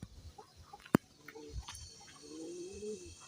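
Soft, low pigeon coos rumble in a quiet enclosed space, with a single sharp knock partway through.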